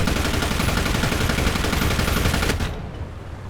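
Rapid autocannon fire from a Sd.Kfz. 251/21 halftrack in the tank game War Thunder, a loud continuous burst of closely spaced shots that cuts off abruptly, leaving a fading low rumble.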